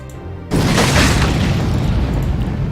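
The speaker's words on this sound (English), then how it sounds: "Goblin Bombers are basically suicide units who have a self-destruct ability" A Goblin Bomber in the Age of Wonders video game sets off its self-destruct ability near a wall, and a sudden loud boom gives way to a long, rumbling explosion.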